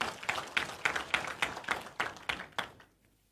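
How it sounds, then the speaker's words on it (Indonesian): Church congregation clapping in praise during a Sunday service, a brief burst of rhythmic hand claps in steady beats that stops abruptly, leaving near silence. "Tepuk tangan bagi Tuhan, saudara."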